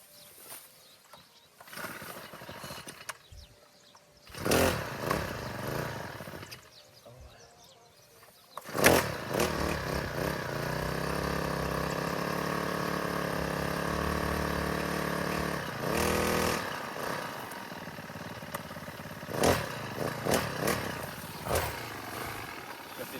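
A small engine on a handheld rice-cutting machine in a Lao rice field is pulled into life, sputtering briefly before settling into a steady loud running drone, with someone talking before and around it.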